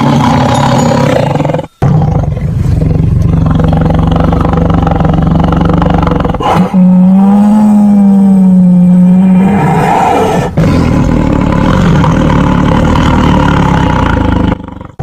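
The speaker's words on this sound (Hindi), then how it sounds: "तो आइए देखते हैं टाइगर को कैसा दिखता है और इसकी आवाज़ को सुनते हैं" A tiger gives long, loud, rumbling roars that fill the whole stretch, with short breaks between bursts and a rising, wavering growl in the middle; no voices are heard.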